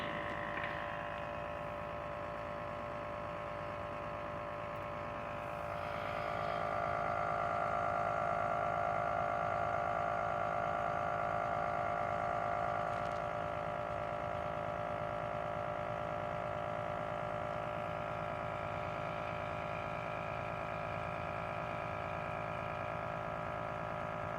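A pulse motor rotor spins on power from a super capacitor bank, giving off a steady mechanical whir and buzzing hum that rises slightly in pitch and loudness partway through and then holds constant.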